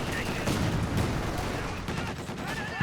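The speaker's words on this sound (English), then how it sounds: "bit of mortar fire coming in from NiteNite" Mortar rounds land in a Company of Heroes 2 battle: a rapid string of sharp, booming impacts and crackling explosions fills the whole moment at close range, with a voice faintly mixed into the din.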